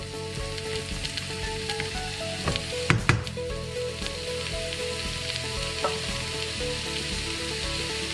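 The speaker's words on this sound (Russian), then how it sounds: "И обжариваем наши шампиньоны тоже до полуготовности." Champignon mushrooms frying in a pan for beef stroganoff, a loud continuous sizzle with a few sharp stirring clatters near the middle, no voices.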